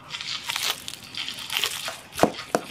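Bites into crispy fried chicken during a mukbang give close, sharp crackling crunches, scattered irregularly, with a couple of louder snaps near the end.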